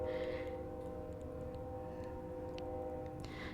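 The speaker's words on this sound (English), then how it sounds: "You can probably hear the train." A train rumbles steadily in the distance with a low, continuous drone and faint tonal hum, sustained throughout with no break.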